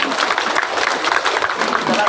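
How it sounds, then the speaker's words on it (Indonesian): Applause from an audience at a political dialogue event with presidential candidates in Tuban, a dense steady wash of clapping lasting the whole moment, with a crowd murmur underneath. "Tepuk tangan untuk Gus Maksum."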